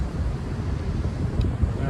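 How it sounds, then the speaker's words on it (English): Water pouring over a river weir beside a canal lock, running high and fast, a steady loud roar with heavy low rumble and wind buffeting the microphone. "look at the power of this weir"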